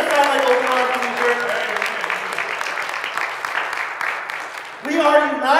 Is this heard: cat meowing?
no